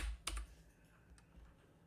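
A handful of quick keystrokes on a computer keyboard, faint and close, clustered at the start and then trailing off into near silence.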